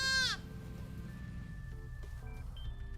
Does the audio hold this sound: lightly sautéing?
no